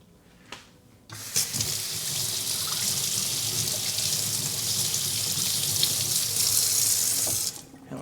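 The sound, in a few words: rinsing under running tap water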